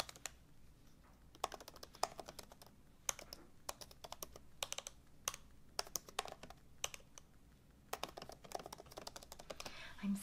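Keys click quietly on a new laptop keyboard in short, irregular bursts of typing separated by brief pauses, close and soft in a calm setting.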